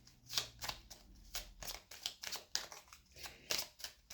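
Tarot cards are shuffled by hand in quick riffling bursts, soft papery flicks repeating close by in a quiet room.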